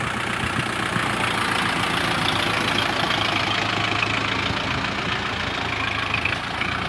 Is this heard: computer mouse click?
no